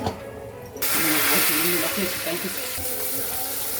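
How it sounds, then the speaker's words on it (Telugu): Marinated chicken for chicken curry hitting a hot pan, bursting into a loud, steady sizzle and hiss that fills the frame after a quieter start, continuing strongly to the end. "చికెన్ ఇలా వేగింది. ఇప్పుడు చికెన్ వేసుకుందాం."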